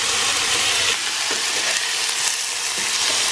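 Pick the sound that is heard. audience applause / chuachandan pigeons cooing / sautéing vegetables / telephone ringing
sautéing vegetables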